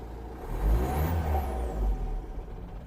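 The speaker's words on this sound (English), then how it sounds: "I'm going to give it acceleration and see exactly what it does." A 2015 Vauxhall Vivaro 1.6 CDTi van idles and is given throttle, its diesel engine swelling into a rev, dipping, then rising again nearby, with no talk over it.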